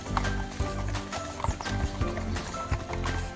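Horse hooves clip-clopping in a quick, uneven rhythm of close, distinct thuds, with a brief neigh-like sound and background movement, all within a few seconds.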